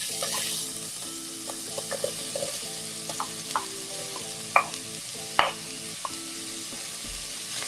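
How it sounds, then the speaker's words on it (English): Chopped onions dry sautéing in a hot pan with no oil, a soft sizzle with occasional spoon knocks and scrapes, quiet and close, alongside faint background music. "I'm going to let this kind of dry saute"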